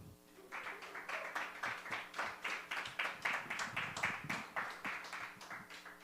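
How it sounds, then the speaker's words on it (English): An audience at a storytelling open mic claps in an even, rhythmic beat, the claps fairly soft and spread across the room, continuing steadily throughout. "for the last double applause"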